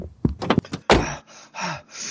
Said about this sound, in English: that crazy old miner Pixac Pete came a-bursting through the saloon doors